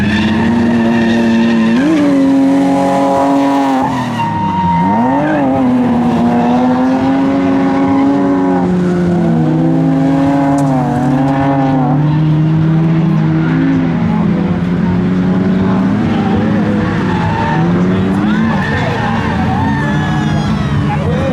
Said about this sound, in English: First spin out of the day.